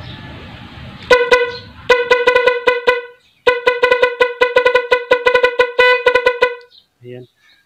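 Musical horn fitted to a vehicle plays a tune in bursts of bright, honking notes, loud and close, with a short pause partway through before the melody resumes and then stops.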